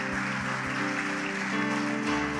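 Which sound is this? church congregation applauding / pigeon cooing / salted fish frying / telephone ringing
church congregation applauding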